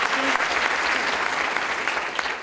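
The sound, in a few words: audience applause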